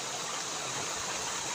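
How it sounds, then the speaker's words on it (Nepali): A forest stream near a campsite rushes steadily, a continuous close wash of flowing water with no breaks or voices. "यहाँ खोला छ"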